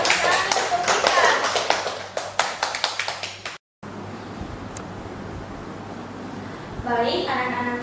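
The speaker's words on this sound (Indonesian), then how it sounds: "Tepuk tangan untuk Syifa." Students in a classroom clap for a classmate, a short burst of close, fairly loud hand claps that stops after a few seconds, followed by quieter room noise and faint talk.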